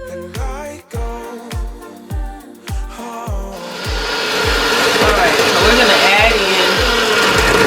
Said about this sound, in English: we're gonna blend this with our mixer. Just using a regular hand mixer.